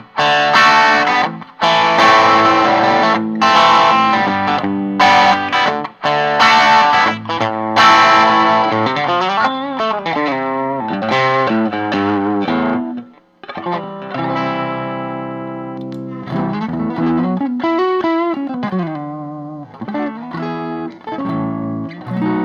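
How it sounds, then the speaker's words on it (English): A homemade plywood Telecaster-style electric guitar plays through a Jazz Chorus amp, picking out notes and chords with a chorus shimmer, loud and close, with short pauses between phrases and no voices. "you're hearing what this guitar really sounds like"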